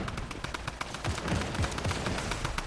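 Rapid machine pistol gunfire in a video game gun-game match in a modern mansion, dense bursts of shots running continuously at close range with no speech.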